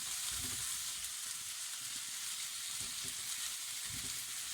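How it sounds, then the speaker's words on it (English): Samosa potato filling cooking uncovered in a pan over a low flame, a steady close sizzle under the soft scrape of a spoon stirring through it, with a few louder stirring strokes and no talking. "So keep stirring, and we're just going to cook this filling out."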